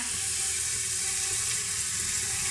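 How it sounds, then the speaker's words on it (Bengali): Chilies and onions fry in a pan, giving a soft, continuous sizzle and hiss that stays faint and even throughout, with no voices. "এর মধ্যে দিয়েই আমি একটু ভাজা ভাজা করে দেবো মরিচ পেঁয়াজটা"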